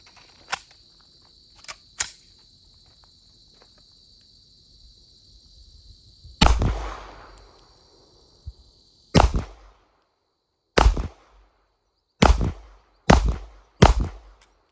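Sharp, loud reports from an MPA Defender pistol fired outdoors, about nine separate shots spaced irregularly with brief ringing decays between, over a faint steady high-pitched insect hum.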